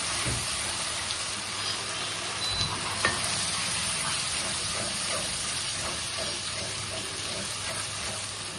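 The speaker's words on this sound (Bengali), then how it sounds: "এখানে পেঁয়াজ বাটা রসুন বাটা বাটা আদা বাটা দিয়ে দিচ্ছি" Onion, garlic and ginger paste fries in a pan with the chicken, giving a continuous close sizzle with occasional stirring taps and scrapes. No one talks.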